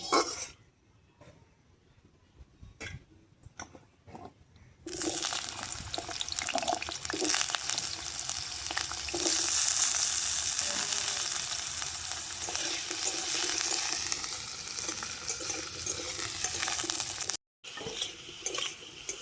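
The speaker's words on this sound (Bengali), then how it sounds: "এবারে আলুটা" After a few quiet clicks, loud, steady frying hiss fills the air for several seconds as potatoes cook in oil, cutting off abruptly.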